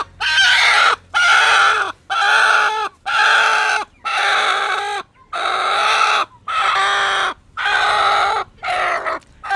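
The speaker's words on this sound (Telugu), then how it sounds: "ఈ పుంజుని చూసారా?" A village rooster crows repeatedly, loud and close, in long drawn-out calls with short pauses between them, while chickens cluck faintly in the background.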